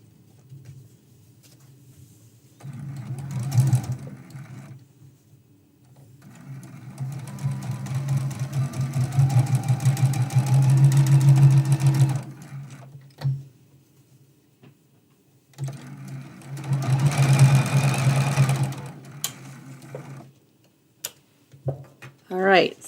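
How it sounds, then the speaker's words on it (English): A domestic sewing machine stitches short seams for foundation paper piecing on a candlestick trivet quilt block, two close bursts of steady whirring with a quiet pause between and light handling noises. "And we're going to bring that to the sewing machine."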